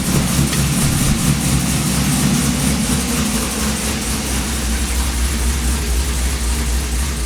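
A Chevrolet Camaro's LS3 V8 with a newly welded stepped-pipe exhaust idles steadily and close, a deep rumbling burble holding an even level throughout with no speech.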